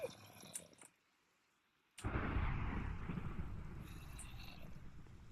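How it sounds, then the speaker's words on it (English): Thunder from a Minecraft storm: a sharp crack after a moment of silence, swelling into a loud, broad rumble that slowly fades over several seconds, with no talking. "Kinda cool thunder noise, not gonna lie."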